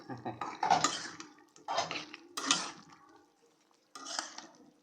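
New potatoes dropped into a cooking pot of meat masala for a rohu fish curry, several clattering bumps against metal in separate bursts, close by, with a voice talking between them.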